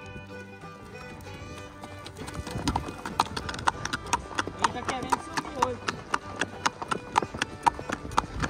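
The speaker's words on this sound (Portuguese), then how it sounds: "Hoje eu tô no outro cavalo de marcha picada." Rhythmic, crisp hoofbeats of a gaited horse moving at a quick marcha picada gait on a hard surface, close by, with someone speaking over them.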